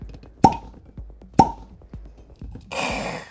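Two sharp pops ring out, about a second apart, as corks are pulled from Diplomatico Mantuano rum bottles, followed by a short hiss or pour at the end, close and moderately loud.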